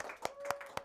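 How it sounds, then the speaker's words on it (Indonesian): A class claps for group 1, heard as three sharp, evenly spaced hand claps over a faint steady tone, quiet and close. "beri tepuk tangan kepada kelompok 1"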